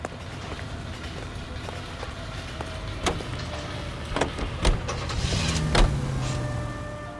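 A car driving in L.A. Noire gives off a steady engine drone with a few sharp knocks and clunks near the end, moderately loud, with no talking.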